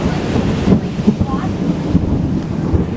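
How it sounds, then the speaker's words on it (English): Thunder rumbles through a storm with wind and rain, low booming rolls rising and fading over steady background noise, fairly close and loud, with no voices over it. "it is completely thunder"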